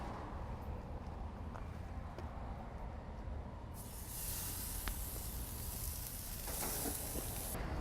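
New York strip steaks on a grill preheated for direct high heat give off a faint, steady hiss that grows brighter and more intense halfway through.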